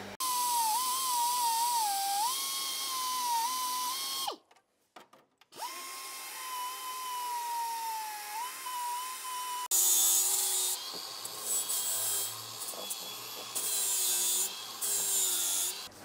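A power tool grinds and files engine parts while a manifold is fitted to a drift car's engine. A steady whining drone breaks off briefly, then returns and gives way to rougher, uneven scraping and rasping.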